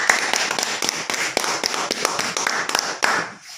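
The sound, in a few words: audience applause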